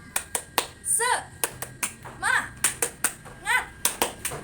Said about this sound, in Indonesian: Kakak kasih contoh dulu ya. Begini, tepuk semangat.